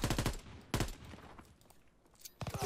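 Automatic weapons fire in Call of Duty: WW II on a Gibraltar mission: two loud bursts of rapid shots, a quieter gap with faint distant firing, then another close burst near the end.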